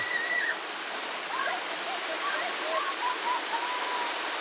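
A waterfall on the Caldeirão Verde levada trail in Madeira roars in a continuous, even rush of water, with faint bird chirps drifting over it and no speech.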